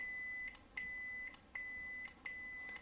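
Four evenly spaced high electronic beeps from a KR Sabers neopixel lightsaber volume menu as the volume steps down, each tone held briefly, close and quiet over low room noise.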